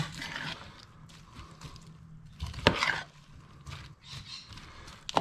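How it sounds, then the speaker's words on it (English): BBQ pineapple pork cutlets being stirred in a pan so their juice coats the pieces, with pineapple chunks in the mix. Close, soft scraping and wet shuffling, then one sharper clatter of utensil on pan partway through, with no talking. "Give that another stir up. Mix all that juice so it's coating everything."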